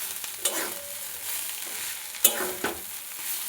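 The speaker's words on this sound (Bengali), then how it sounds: "কিছুক্ষণ এটা নাড়তে থাকবো, তাহলে পুরটা রেডি হয়ে যাবে।" Cauliflower kachori filling being stirred and fried in a pan over high flame: a low continuous sizzle with a few sharp scrapes of the spoon against the pan, close and alone.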